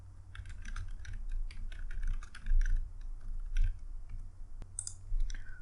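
Typing on a computer keyboard: quick irregular clusters of light key clicks, close and clear over a low hum, with brief pauses between bursts.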